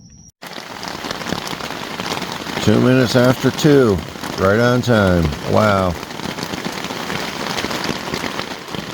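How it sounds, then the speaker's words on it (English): Rain falls steadily at night on a campground at Cypress Creek Preserve, a constant close patter that continues under a man's brief spoken remarks. "Forecast said maybe some rain around 2 a.m."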